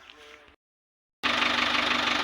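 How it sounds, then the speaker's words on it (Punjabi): A brief faint noise, a moment of silence, then a loud, steady tractor engine rumble starts abruptly and runs on close by. "ਦੋ ਟਰੈਕਟਰ ਅਰਜਨ 555 ਤੇ ਸੋਨਾਲੀਕਾ 750"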